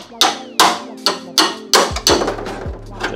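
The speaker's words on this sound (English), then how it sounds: "a special kind of body chisel that you use to hammer in" Body chisel hammered into spot welds on an AE86 body, six sharp metallic strikes in a fairly even rhythm, loud and close, with a ringing tail after each hit.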